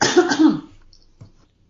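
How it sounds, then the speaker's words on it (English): A single close throat clearing, a rough guttural rasp lasting about half a second, followed by a faint short breath and silence. "Sorry, I have to clear my throat."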